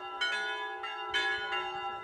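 Church bells from a set of eight, some swung and some struck by hammer, ring in clear overlapping strikes every fraction of a second, their long metallic tones sustaining between hits.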